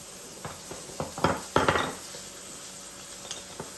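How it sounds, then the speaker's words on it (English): Steak in a pan with butter being basted: scattered clinks and scrapes of a spoon against the pan, with a brief louder burst of clattering in the middle, over a soft, steady sizzle. "Now it's time for butter basting"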